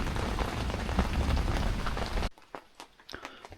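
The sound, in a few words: rain falling at mountaintop campsite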